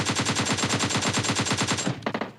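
Rapid automatic machine gun fire in PUBG Mobile Lite, a loud steady burst of evenly spaced shots for about two seconds, ending with a few quicker trailing shots; no talking.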